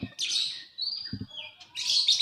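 Pet canaries and lovebirds chirp close by in bright, rapid trills and tweets, in several bursts separated by short pauses, with a few soft knocks.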